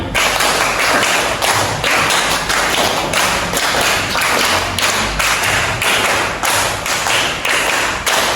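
A primary school class claps together in a counted pattern of grouped, rhythmic claps and thuds, loud and close. The bursts repeat in regular sets with no talking over them.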